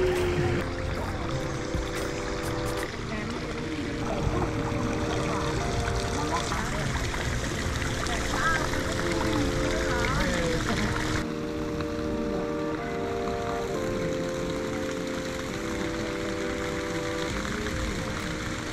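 Hot spring water flowing beside a roadside in Italy, a steady rushing trickle heard close with people talking over it for most of the stretch.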